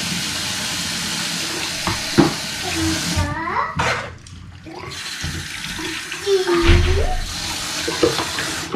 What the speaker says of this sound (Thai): ล้างมือออกด้วย